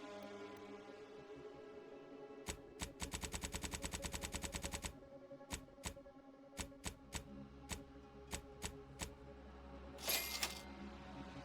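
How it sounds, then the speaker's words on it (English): Weapons fire in the game Outer Worlds 2: a rapid burst of automatic rounds, then spaced single shots and a louder missile-like blast, crisp and close with no talking. "Some more short rounds. A couple more missiles."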